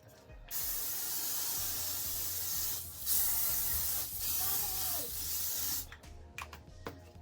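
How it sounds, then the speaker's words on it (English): Hair product sprayed from a bottle onto short natural hair while styling with eco styling gel, several long continuous hissing bursts close to the microphone with brief pauses between them. "So I'm going to spray."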